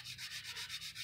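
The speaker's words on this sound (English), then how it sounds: "Notice how I'm just sanding straight down on that run." Rapid, rhythmic back-and-forth scratching as a run in automotive clearcoat is sanded straight down, about nine strokes in quick succession, quiet and close.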